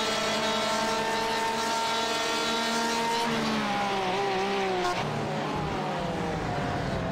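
Race car engine screaming during a passing attempt on a racetrack, loud and continuous, holding a high pitch before dropping sharply as the driver downshifts and the revs fall and climb again.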